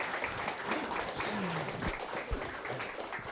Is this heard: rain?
no